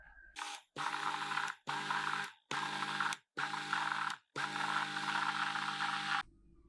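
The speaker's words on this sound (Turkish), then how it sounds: "Kalan suyumu da döktükten sonra tekrardan blenderdan geçiriyorum." A blender mixing a detox drink with apple cider vinegar, whirring in several short loud bursts separated by brief pauses, the last run longer, heard close with no talk.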